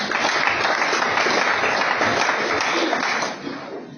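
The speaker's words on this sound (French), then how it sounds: "On acclame le Seigneur" A congregation at a memorial ceremony in Kinshasa breaks into loud, sustained applause, dense clapping filling the room and holding steady before tapering slightly at the end.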